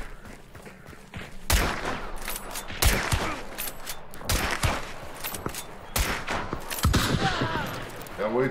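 Gunfire in the video game Hunt: Showdown, a series of loud, sharp shots in bursts over several seconds, with players talking in between.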